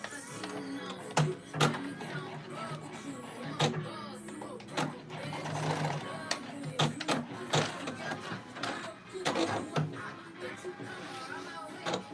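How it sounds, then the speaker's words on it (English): A sewing machine lock stitches fabric for trousers, whirring in short uneven bursts with mechanical clicks, while a person talks quietly in the background. "I'm just gonna lock stitch this"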